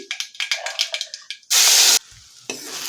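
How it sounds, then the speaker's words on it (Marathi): Ground spice paste sautés in a pan after mustard seeds, cumin and curry leaves, for a sprouted moth bean curry. Quick scraping stirs are followed by a short, loud burst of sizzling hiss. "आता ही पेस्ट थोडीशी परतून घ्यायची आहे"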